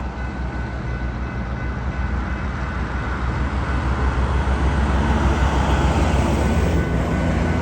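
A freight train's switch crew sorts empty and loaded hopper cars on a branch line beside a busy highway. The scene gives a steady, rumbling mechanical drone with faint rolling and clanking that swells slightly toward the end, heard without any talking.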